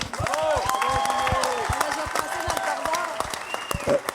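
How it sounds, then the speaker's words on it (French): An audience at a roast claps for several seconds in a dense, steady burst of applause, with scattered cheers and a voice talking over it. "On l'applaudit."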